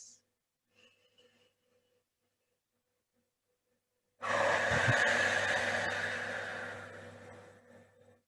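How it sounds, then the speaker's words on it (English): After a near-silent pause, a person lets out one long whooshing breath, close and breathy, that lasts about four seconds and slowly fades. "breathing out for as long as you can, maybe even with a little whooshing sound, something like this."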